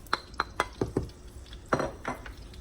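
Ghana jollof rice being stirred in a pot, a series of close scraping and clinking strokes of a spoon against the pot, quick at first and then a few slower knocks.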